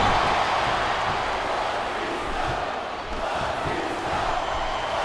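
Wrestling arena crowd cheering in the WWE SmackDown vs. Raw 2008 video game during a Batista match, a steady dense roar of many voices that holds loud throughout with a slight dip midway.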